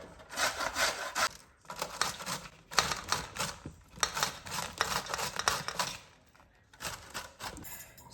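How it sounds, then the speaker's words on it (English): Cauliflower florets rubbed down the coarse side of a box grater in rhythmic scraping strokes, loud and close, with brief pauses between bursts and no talking. "I'm going to grate the cauliflower. So always use the thicker side."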